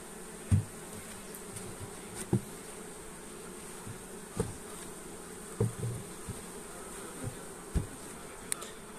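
Honey bees hum in a steady, faint drone inside an open hive, with soft knocks and bumps from the frames now and then.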